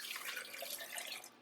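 Water is poured steadily into a handmade clay tankard, a soft, continuous hissing splash heard up close and quiet for about a second and a half before trailing off.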